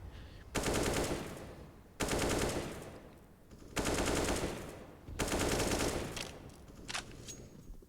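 Counter-Strike: Global Offensive gunfire on the Overpass map, heard as four loud bursts of sustained automatic fire, each lasting over a second, with short gaps between them and no talk.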